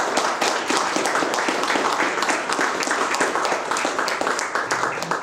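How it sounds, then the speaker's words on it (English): A room of attendees at an evening God & Beer talk event gives a round of applause, many individual claps blending into steady, fairly close clapping that continues throughout. "Could we please give Anna a round of applause?"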